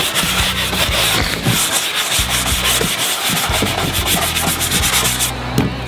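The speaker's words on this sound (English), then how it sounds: "Give it a good scrape, because a smooth board is a smooth ride." A scraper and then a pad work wax off a snowboard base in quick, rasping strokes, a loud, close, continuous rubbing that repeats rhythmically throughout.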